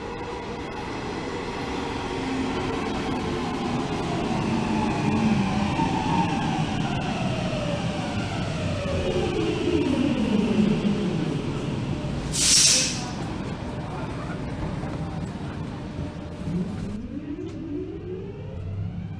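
A metro train pulls into a station at Itäkeskus in Helsinki, its steady rumble and falling motor whine filling the platform, with a brief sharp hiss midway; loud and continuous.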